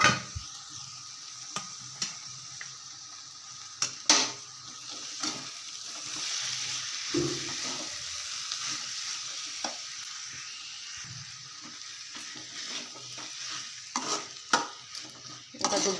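Black-eyed peas are being stirred into a pan for a cowpea dish, with soft scraping and light sizzling plus a few sharp spoon clinks against the pan, quiet and close.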